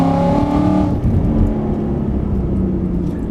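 A supercharged 2016 Ford Mustang GT's engine roars steadily as it accelerates hard, a loud continuous whir and rumble throughout, close and unbroken.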